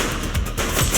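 Gunfire in The Precinct police game, a dense burst of shots packed into a second, loud and close with no clear gaps between reports.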